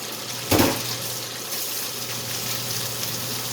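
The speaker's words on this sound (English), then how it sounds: "I'm gonna be adding water." About two cups of water pour into a cooking pan in a kitchen. A sharp splash comes first, then a steady running pour continues alone at moderate loudness.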